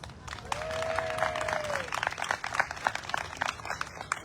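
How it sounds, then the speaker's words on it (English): Audience applause at a Lemonade Day youth entrepreneurship celebration at city hall, a steady wash of clapping with cheering over it, tapering toward the end with a voice faintly heard. "Please give everyone and yourselves a big round of applause."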